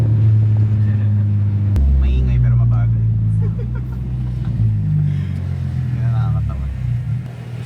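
Honda Civic FD engine droning and rumbling steadily from inside the car on a night drive, with revs shifting up and down under cabin talk.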